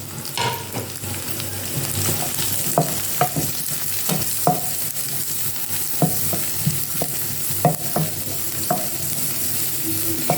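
Mixed vegetables including cabbage and capsicum fry toward golden in a pan, a continuous sizzle broken by regular sharp scrapes and taps of a spatula stirring them.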